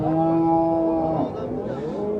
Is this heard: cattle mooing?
yes